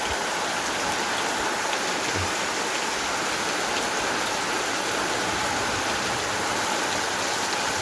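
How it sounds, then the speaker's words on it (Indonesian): Steady, heavy rain pours continuously, a dense hiss of drops drumming on surfaces with no voices. "Nah, ternyata iki ya hujan, seneng ya hujan."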